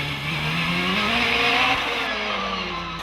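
A Gould hillclimb race car at Loton Park during the British Hillclimb Championship, accelerating up a steep rise with a loud, sustained engine note that climbs and holds in pitch, heard alone without talk.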